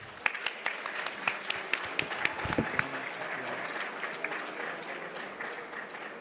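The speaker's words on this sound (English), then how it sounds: "Ladies and gentlemen, please big round of applause for Lord Mayor of Birmingham, Mr. Ken Wood." Audience applause at a Pakistan Independence Day celebration in Birmingham, a fairly faint, steady wash of clapping with sharper individual claps popping out, fading slightly toward the end.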